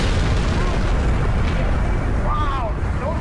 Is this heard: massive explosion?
yes